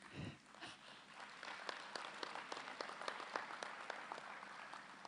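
Scattered applause from a modest audience at an annual conference, individual claps standing out in a loose, uneven rhythm for a few seconds, fairly faint and distant.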